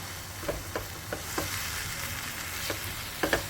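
Mashed roasted eggplant bharta sautés in oil with a soft continuous sizzle, broken by several light scraping stirs of a spatula at irregular intervals, close up and without talk.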